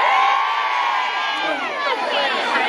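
Concert audience at a show in Sauce Viejo cheers, whoops and shouts loudly and continuously, a dense crowd roar filling the whole stretch.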